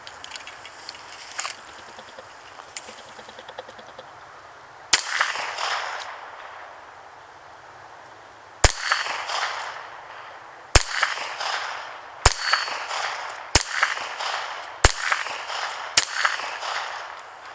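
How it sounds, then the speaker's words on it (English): A Rock Island .45 ACP pistol fires slow, single sharp shots outdoors, about seven reports spaced a second or more apart, each loud and cracking over a steady background hiss. "I'm just gonna take some slow fire practice, and I'm gonna see where these rounds are hitting"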